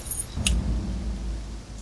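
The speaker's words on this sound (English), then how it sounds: "Ooh, we got some car keys." Car keys jangle in a video game, a single short metallic rattle that stands loud and alone over a low steady background hum.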